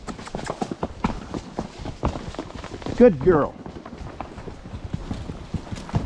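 A mule's hooves clip-clop steadily along a desert trail in a quick, even rhythm, close by, while a person talks briefly to the animal partway through.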